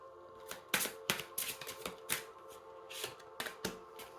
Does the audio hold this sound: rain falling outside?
no